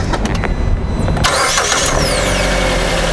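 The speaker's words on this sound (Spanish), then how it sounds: "Vamos a encender otra vez el vehículo." Car engine starting during a battery voltage check, with a loud cranking whir that catches at about one second and settles into a steady close idle, no talking.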